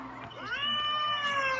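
A human voice imitates a cat's meow: a single drawn-out, rising then sustained meow, close and clear against a quiet background.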